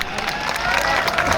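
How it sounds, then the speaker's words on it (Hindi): A crowd at a political election rally claps and cheers loudly, a dense burst of applause close by with some voices mixed in. "एक बार जोरदार तालियां"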